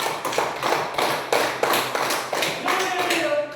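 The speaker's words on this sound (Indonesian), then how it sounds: "Terima kasih, tepuk tangan." A third-grade class claps in unison in a classroom, about a dozen distinct, evenly spaced claps in a quick rhythm, close and clear, with a brief voice near the end.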